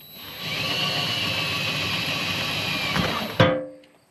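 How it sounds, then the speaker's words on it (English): A power drill boring a hole through metal siding on a post-frame building, one steady whirring run of about three seconds that ends with a sharp clunk as the bit breaks through and winds down. "and get that hole drilled"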